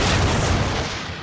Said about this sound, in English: Fire Hunter-Seeker missile!